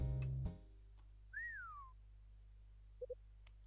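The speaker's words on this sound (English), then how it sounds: "Somebody's whistling." In the video game Hotel Dusk: Room 215, someone whistles a single gliding note that rises then falls, heard alone and fairly faint after a brief thud, followed by two short soft blips.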